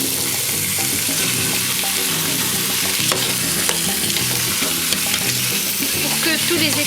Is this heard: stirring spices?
yes